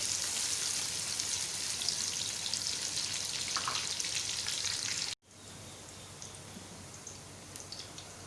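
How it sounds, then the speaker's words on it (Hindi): Steady crackling sizzle of onions frying golden brown in a pan for lobia keema, continuous and fairly loud, briefly cutting out before resuming slightly quieter. "प्याज अच्छी तरह से गोल्डन ब्राउन करें।"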